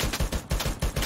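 Rapid bursts of automatic gunfire from a gun in Free Fire MAX, played on an emulator, crack out in a fast, steady rhythm of loud shots filling the whole moment with no talk over them.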